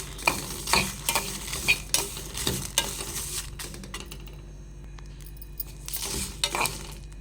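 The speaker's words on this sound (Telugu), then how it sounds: "చూడండి, చిటాపట అంటున్నాయి కదా నూగులు." Sesame seeds and dried red chillies dry-roasting in a pan for mango-sesame chutney, with a spoon repeatedly scraping and stirring, bursts of light crackling and clinks of metal in the first seconds and again near the end.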